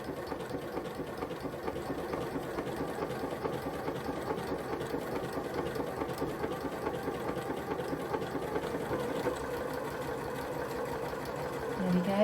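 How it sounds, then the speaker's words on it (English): A sewing machine stitches a buttonhole close by, stitching straight back and then zigzagging forward in a steady, rapid mechanical whir that holds at an even level throughout, with no talking. "put my foot on the pedal and let the machine stitch the buttonhole"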